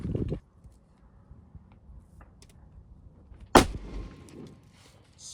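A single sharp rifle shot fired at a 500-yard target outdoors, a loud crack with a short rumbling tail, surrounded by faint ambient noise and a brief thump near the start.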